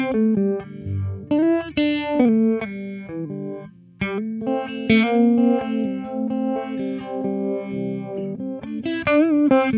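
Electric guitar played through a TC Electronic Viscous Vibe pedal in chorus mode, sustained distorted chords and riffs with a swirling modulated shimmer, loud and continuous with no talking.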